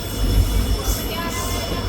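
A passenger train at Kauli railway station on the Ambala Cantt–Dhuri line rumbles steadily with heavy low-end roar and a thin high whine, loud and continuous with no pauses.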